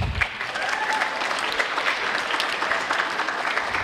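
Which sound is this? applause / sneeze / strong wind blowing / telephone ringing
applause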